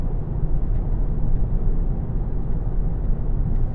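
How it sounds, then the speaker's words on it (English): A 2016 Volkswagen Golf GTD 2.0 TDI on low-profile tyres and firm suspension cruises at about 60 mph, giving a steady, moderate low rumble of road and tyre noise inside the cabin with no talk. "Little bit of tyre noise, which you'd expect from the low profile tyres and the harder suspension"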